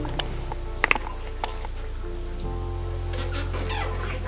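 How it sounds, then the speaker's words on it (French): Water runs steadily from an opened tap for handwashing, a constant close hiss with a few small clicks and drips, a low hum beneath it that deepens partway through. "J'ouvre le robinet"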